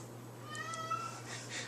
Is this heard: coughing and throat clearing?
no